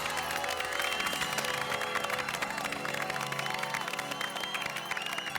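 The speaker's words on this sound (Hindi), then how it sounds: "बाल दिवस के दिन हम एक बार और जोरदार तालियां बजाएं" An audience claps and cheers for children on Children's Day, a faint, dense patter of applause mixed with music throughout.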